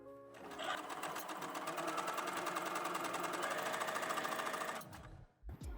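A sewing machine runs steadily for about five seconds as two bra cups are stitched together with a 6mm seam, a fast close mechanical rattle that stops abruptly.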